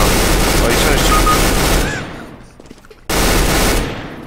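Rapid automatic gunfire from the CS:GO video game, a dense sustained burst that cuts out, leaves a quieter gap of distant game noise, then bursts loud again before fading.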